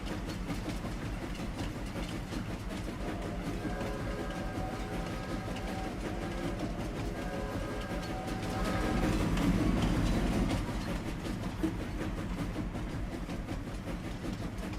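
A steam train rolls along in the video game Farming Simulator 25 with a steady low rumble and faint rhythmic clatter, with thin tonal hissing partway through and a slight swell in loudness near the end.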